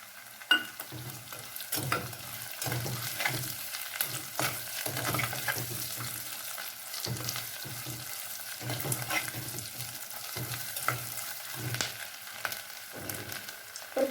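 Ginger and garlic fry in oil for vada curry, a soft steady sizzle broken by repeated stirring scrapes of a spoon in the pan, with no talking.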